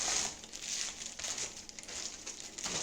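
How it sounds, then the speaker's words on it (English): A plastic bag of 18-inch passion twist hair is cut open with scissors, giving a quiet, steady crinkling and rustling of thin plastic throughout. "Okay, so I'm just going to open up the bags with my scissors."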